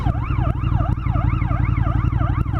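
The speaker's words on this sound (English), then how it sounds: "There goes Mr. Ambulance." An ambulance siren in the street in Uppsala wails in a steady rising-and-falling cycle, loud and close as it passes, with no talk over it.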